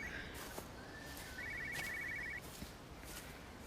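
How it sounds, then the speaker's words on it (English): A telephone rings inside the video game Everybody's Gone to the Rapture, a faint electronic trill heard in short bursts against a low ambient hum, with no one speaking. "There's definitely a phone ringing too."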